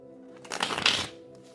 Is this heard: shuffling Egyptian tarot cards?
yes